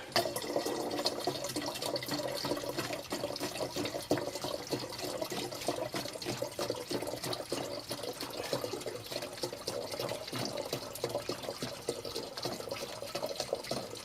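Continuous splashing trickle of de-ionised water being poured into the coolant tank of a Ford Focus 1.5 TDCi, steady and moderately close with no pauses.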